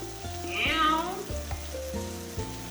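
Brussels sprouts frying in a pot with bacon, a steady close sizzle and crackle with occasional stirring clatter, no talking.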